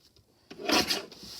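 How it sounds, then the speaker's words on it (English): The ragged edge of a journal page, made from a children's book, is trimmed off in one short, soft rasping cut that builds and fades within about a second. "I'm going to trim that ragged edge off right there"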